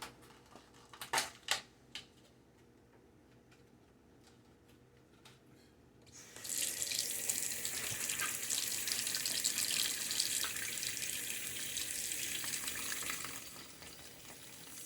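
Fresh rosemary rinsed under a running kitchen tap: after a few quiet knocks, a steady, close rush of water starts and flows for several seconds before easing off.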